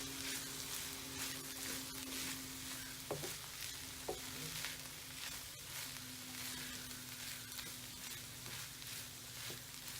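Cauliflower rice stir fry is stirred in a pan, giving a continuous quiet sizzle with occasional scrapes and knocks of the utensil, and no talking.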